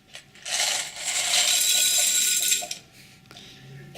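Small metal grommets spill and rattle into the single-feed automated grommet loader of a Hiker 307AS machine, a dense, bright metallic clatter swelling for about two seconds, then thinning to a few scattered clinks.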